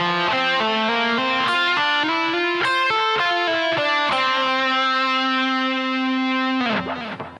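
A distorted electric rock guitar plays a fast phrase in G Dorian, with bent notes leading into a long sustained final note that fades at the end; loud, close and without voices.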